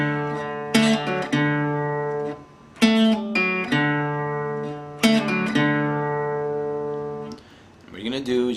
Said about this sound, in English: The pull off will sound like this.